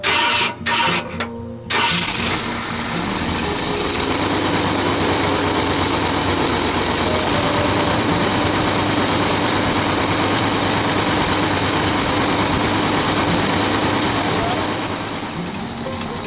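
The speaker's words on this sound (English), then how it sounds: "All right, guys, we'll go ahead and do a cold start." A 1969 Ford Ranger engine cold-starts with a few rough cranking bursts, then settles into a loud, steady idle that runs close and unbroken to the end.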